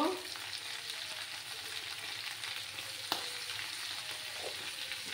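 Cauliflower stems frying with turmeric powder crackle steadily while being stirred, with one sharp utensil tap midway and a continuous close sizzle, no talk.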